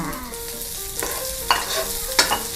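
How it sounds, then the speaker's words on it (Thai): Onion being stir-fried in a pan, a steady close sizzle with a few sharp scrapes and clanks of the utensil against the pan, no voices. "นี่ก็ผัดหอมหัวใหญ่ให้มันเข้าที่"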